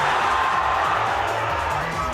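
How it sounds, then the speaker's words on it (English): Crowd cheering at a Smash Ultimate tournament finals, a steady wash of roaring voices filling the hall with no break, while commentators talk underneath. "You hear this crowd"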